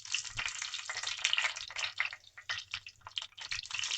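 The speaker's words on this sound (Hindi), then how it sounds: "इस तरह फ्राई होने देंगे फ्रेंड" Red chili sizzles in hot oil in a pan, a steady busy crackle of frying with scattered pops and spits that carries on with no voices.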